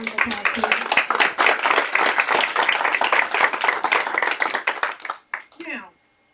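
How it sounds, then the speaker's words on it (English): Sustained, loud audience applause for a speaker named Jasmine, many hands clapping densely together before tapering off in a few final claps. "Let's give Jasmine another round of applause"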